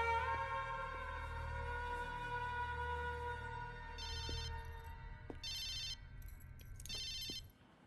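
A telephone rings repeatedly in bursts of bright electronic chirps, four clear cycles in a row, over a low sustained musical drone in a tense film scene.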